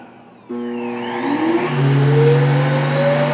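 A Roomba i7+ dock motor whirs on abruptly and its pitch rises into a loud, steady drone as it sucks debris out of the robot vacuum's bin.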